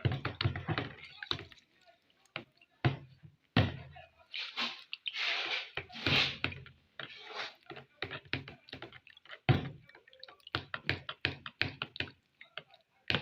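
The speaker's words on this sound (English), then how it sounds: "Stir well, stir from down, stir up." Gel hand sanitizer made with isopropyl alcohol is stirred in a container, giving irregular wet knocks, taps and squelches against the sides, with a voice talking over parts of it.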